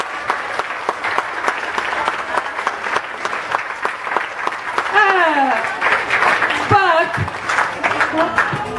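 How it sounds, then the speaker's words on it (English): Audience applause at a school farewell event, dense steady clapping from a crowd throughout, with a voice and cheering rising over it in the second half. "Can we give Mr. File a great big clap?"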